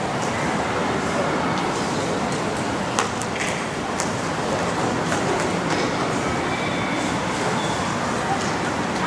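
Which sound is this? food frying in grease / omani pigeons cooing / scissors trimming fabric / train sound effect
train sound effect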